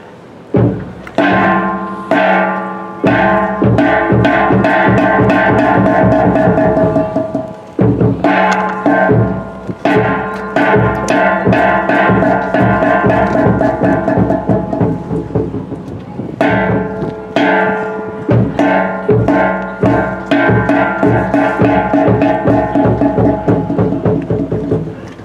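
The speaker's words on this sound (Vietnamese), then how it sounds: "Tôi cho ba hồi chiêng trống để về." Ceremonial gong and drum rolls sound at a Vietnamese commemoration of 30 April at Eden Center. Loud, rapid drumbeats mix with ringing gong tones in three long rolls split by short pauses.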